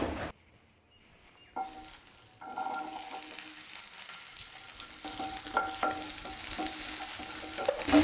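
Oil being poured into a hot pan that then fries, a near-silent start giving way to a steady close sizzle with light clinks and scrapes of stirring through the rest.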